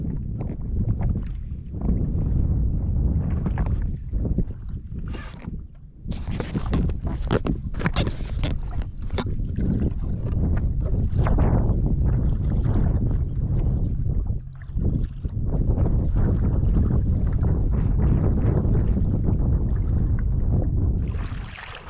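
Paddling a kayak or canoe through the water around Sawyer Keys and Content Keys in the Florida Keys, with steady splashes and dips of the paddle, heavy wind rumble on the microphone throughout and no talking.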